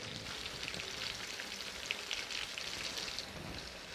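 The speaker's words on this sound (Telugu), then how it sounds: "ఈ విధంగా ఆయిల్లోనే వంకాయలు మొత్తం ఉడికిపోవాలి." Brinjals fry in a pan of oil with a steady, soft sizzle and occasional small pops, quiet and continuous without talk.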